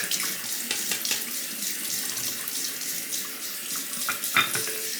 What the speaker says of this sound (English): Just gonna rinse off the blade real quick.